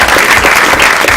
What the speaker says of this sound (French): Donc le photographe, on peut l'applaudir